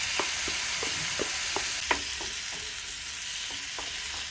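Goat meat and spices sizzling steadily in a pan as tomatoes go in, a constant frying hiss broken by a series of soft spoon scrapes and stirs, close and fairly quiet, no talk.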